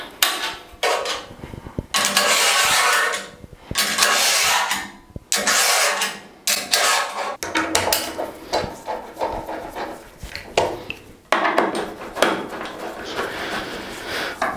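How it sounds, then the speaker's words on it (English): Screws being driven into wood while building a DIY sliding table, heard as repeated bursts of grinding, rasping drive noise with brief pauses and knocks between them, close and fairly loud. "put the screws in"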